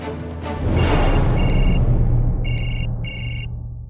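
A telephone rings indoors in several short bursts of bright electronic tone, separated by brief pauses, loud and close against a low background hum with no talking.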